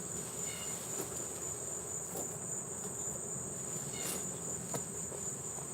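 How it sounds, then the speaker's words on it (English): Honeybees buzzing around an open, active hive during honey harvesting, a steady outdoor insect drone with constant high chirring and a few faint knocks from handling the hive. "Sorry, buzzy bees"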